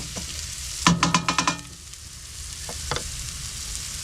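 Onions frying in a pan on a camping-car stove, a steady sizzle throughout with a quick burst of rattling stirring strokes near the start and a few softer scrapes later, close and without talk.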